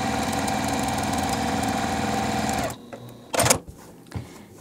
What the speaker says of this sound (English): So let's go ahead and sew.